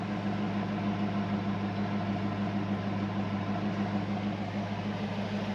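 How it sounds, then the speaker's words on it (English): A 1990 Ford Mustang coupe idles steadily on its stock one-piece cat-back exhaust, a low, even drone with a constant hum throughout and no talking. "I can hear the clutch fan and the accessory drive over the exhaust"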